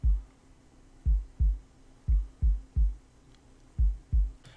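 Deep, punchy 808 bass thumps in an uneven kick-drum pattern, about ten hits with short decays and quiet gaps between.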